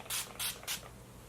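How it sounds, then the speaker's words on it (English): Urban Decay All Nighter setting spray is misted onto a face in three quick, short hissing pumps, close and fairly soft, with no talking. "All Nighter Urban Decay setting spray."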